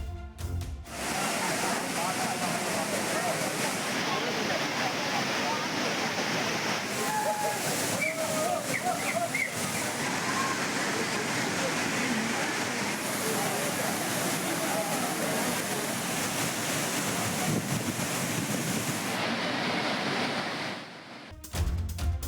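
The Courtallam waterfall, crowded with bathing tourists, gives a dense, continuous roar of falling and splashing water for over twenty seconds, loud and close. Faint voices are buried in the rush.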